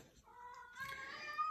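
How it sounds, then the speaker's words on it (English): A cat meows close by in a quiet room, one drawn-out rising meow with a second call slurring into it, fairly soft. "here comes my cat."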